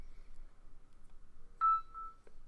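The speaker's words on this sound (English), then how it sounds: "Why is my phone beeping at me?" A short electronic beep from a phone, followed by a fainter second tone, over quiet background noise with no talking.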